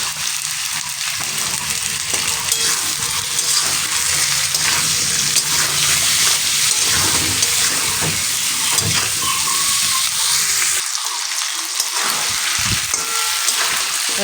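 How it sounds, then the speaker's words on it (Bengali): Ridge gourd and potato chunks frying with salt and turmeric in a pan, giving a steady close sizzle with occasional stirring scrapes throughout, no voices. "লবণ হলুদ দিয়ে আমি হালকা একটু ভেজে নিয়ে"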